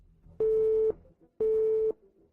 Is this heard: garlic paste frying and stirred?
no